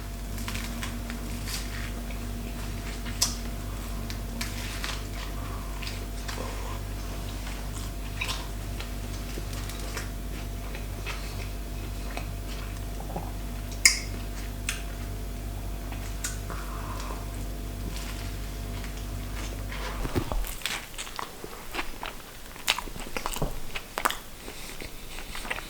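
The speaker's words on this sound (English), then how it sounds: "I'm gonna eat this burger." Someone eating a spicy burger, soft close-up bites and chewing with irregular smacking ticks, over a steady low hum that cuts out near the end, leaving the chewing more exposed.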